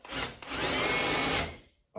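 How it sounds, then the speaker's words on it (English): Step drill bit countersinking screw holes in the plastic top of a Milwaukee Packout, a steady close power-drill whine lasting over a second with a brief burst before and after. "get yourself a countersink tool or your step drill bit and just take off some material"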